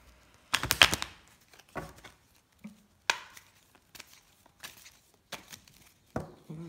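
Tarot cards shuffled by hand in short, dry riffling bursts, some sharp and clustered, others soft, spaced by brief pauses, close and alone.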